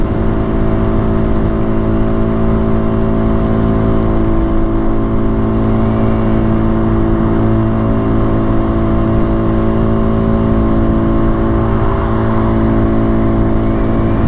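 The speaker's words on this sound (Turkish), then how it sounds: "Yani motor şu an en limitlerde 110 yapıyor." Motorcycle engine held at its limit around 110 on the road, a loud steady drone with constant harmonic hum and rushing wind noise, close and unchanging throughout.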